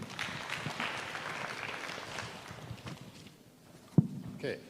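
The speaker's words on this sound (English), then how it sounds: "Let's give him a better applause." An audience at a leadership workshop claps in a moderate, steady patter that fades after a few seconds, with a thump and then a voice near the end.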